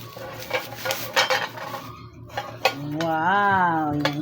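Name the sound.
handling a new non-stick frying pan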